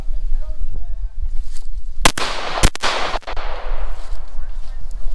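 Pistol gunshots fired during a defensive close-quarters combat drill: a tight cluster of about four sharp, loud shots in quick succession, ringing out over steady background noise.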